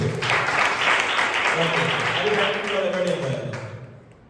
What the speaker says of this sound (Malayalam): കുഞ്ഞുങ്ങൾക്ക് നല്ലൊരു കൈയടി കൊടുത്തേ